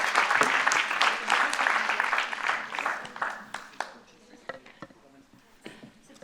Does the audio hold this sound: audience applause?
yes